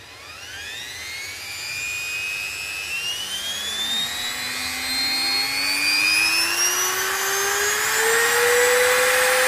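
A homemade 600VA pure sine wave inverter built around an EGS002 controller is switched on and runs with a steady, loud electronic whine. Several high tones rise slowly in pitch and strengthen over the run, and no one speaks.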